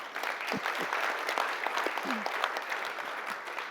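A lunchtime audience gives a round of applause at a Melbourne conversation event, steady dense clapping filling the room for a few seconds with a few voices calling out over it.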